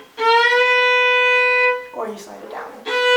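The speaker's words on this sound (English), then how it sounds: "You just slide your finger up," Bowed fiddle note opens with a finger slide up into pitch, a celtic slide ornament, then sustains clearly and close. A short burst of voice breaks in before the bowed tone returns at the end.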